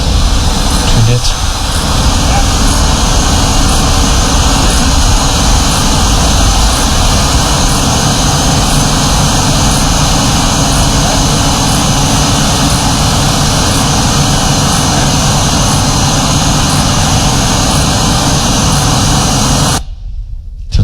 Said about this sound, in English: why not building with flying drones? So this is an early experiment